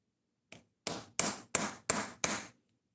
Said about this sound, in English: sometimes all it takes is a tiny hammer